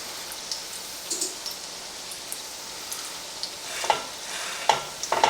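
Pork chops fry slowly in oil in a pan, giving a soft, steady sizzle with occasional crackles and pops that grow a little livelier toward the end, and nobody talks.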